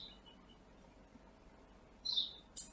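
A sparrow gives a few brief, high chirps: one at the start, then two more close together near the end, fairly faint against a quiet background.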